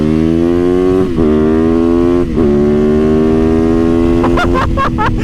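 A street-legal supermoto motorcycle engine revs hard and steadily, its pitch climbing through loud sustained pulls with brief dips between, then a few quick sharp blips at the end, close and alone.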